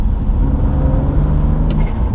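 A BMW M2 Competition fitted with an Eventuri intake accelerates hard in a steady, loud, low engine roar heard from the cabin, then lifts off.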